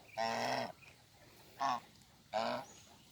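Three loud, nasal goose honks close by: a long drawn-out call, a short one, then another long call, with quiet gaps between.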